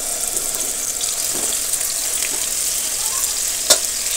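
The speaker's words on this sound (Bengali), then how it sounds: "একটু সময় নিয়ে লো টু মিডিয়াম আছে মাছগুলো খুব সুন্দর করে ভেজে নেব" Pieces of a large boal catfish fry in hot oil over low to medium heat, giving a dense, constant crackling sizzle up close, with a brief metallic clink near the end and no speech.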